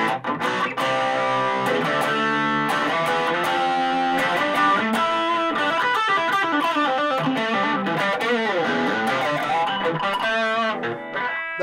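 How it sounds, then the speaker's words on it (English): An electric guitar with a humbucker pickup plays through a Blackstar FLY 3 amp on the overdrive channel, gain at half and delay off. Loud distorted chords and single notes ring continuously, with no talking. "Overdrive channel, so we can gain it half."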